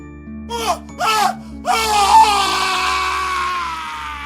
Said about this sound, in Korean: 그때 저 멀리서 돌쇠의 날카로운 비명이 들렸다